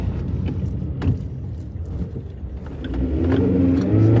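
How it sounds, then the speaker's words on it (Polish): A 2005 Toyota RAV4 drives through a roundabout with a steady, close engine hum and road noise that rises as it accelerates toward the end, with no talk. "Zaraz zobaczymy na tym rondzie, jak składa się do zakrętów."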